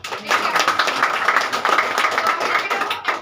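An audience at a business award event applauds continuously in a hall, a dense and fairly loud wash of many hands clapping for about three seconds.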